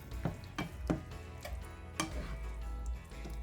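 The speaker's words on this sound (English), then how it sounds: "let it saute just a little bit so all of the flavors will meld into the meat" Ground beef sautéing in a pan with spices, a low steady sizzle underneath with several sharp utensil taps and scrapes spaced through, fairly quiet and close, no talking.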